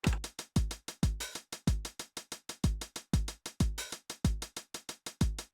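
A programmed 909 drum machine loop plays steadily: punchy kick hits with crisp closed hi-hats ticking between them and an open hi-hat sizzle on step 8 recurring each bar.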